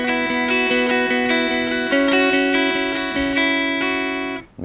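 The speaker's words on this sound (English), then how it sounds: "the clean tone in the neck position for the verse sounds like this." Clean electric guitar tone from an Epiphone Explorer on the neck pickup plays a repeating echoed note pattern, loud and steady, with no talking.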